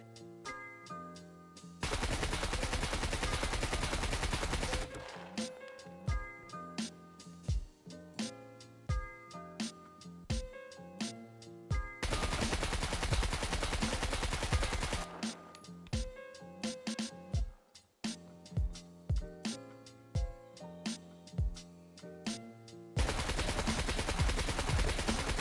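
Rifle fire in the video game SCUM: long sustained automatic bursts alternate with spaced single sharp shots in a repeating pattern, loud and close with no talk.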